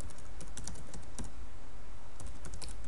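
Rapid, close typing on a computer keyboard, with continuous light key clicks and a few louder keystrokes heard alone.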